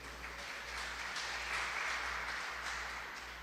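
A church congregation applauds steadily, a dense wash of clapping that swells slightly in the middle.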